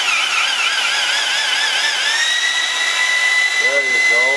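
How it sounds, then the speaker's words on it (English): A power drill churns drywall mud for a final coat on angles, a steady loud whine that rises in pitch midway, with brief clattering near the end as the paddle moves up and down in the bucket. "You wanna move your drill up and down sometimes. To break up the mud."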